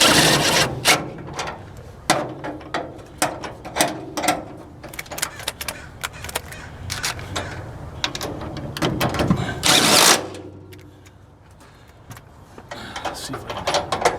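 An impact driver snugging screws and nuts down while a regulator is installed, heard as a series of short, close rattling bursts with clicks and handling noise between them, one longer burst in the middle, then a quieter stretch.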